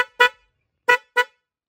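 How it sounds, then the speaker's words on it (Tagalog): Dual car horn tested in short bursts, three sharp, loud, close honks with clear gaps between them and silence around them. "Itong dual horn natin"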